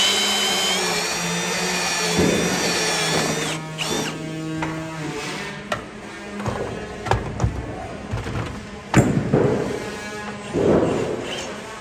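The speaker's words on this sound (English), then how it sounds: "I'm drilling holes for our electric right now" A power drill whines steadily boring holes in wood for electrical wiring, its pitch shifting as it bites and eases, interrupted by short knocks and clatter from handling wood and tools nearby.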